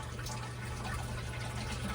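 Sump pump in a freshwater aquarium sump circulating water, giving a steady, continuous gurgling and trickling wash of water at an even close level with a low hum beneath.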